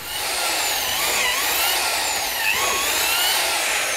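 A cordless drill bores into wood for an insect hotel, a loud continuous whirring grind with wavering pitch, close and without talk.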